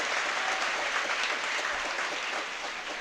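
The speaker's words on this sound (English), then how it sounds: "Strong applause from the crowd." An arena audience at a European Kendo Championships match bursts into strong, continuous applause, a thick patter of many hands that stays loud and tapers slightly toward the end.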